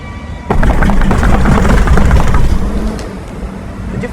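A real Lexus LX600 drives over speed bumps laid out on a test track, a steady loud engine and road rumble with low thuds, close and continuous after a quiet start.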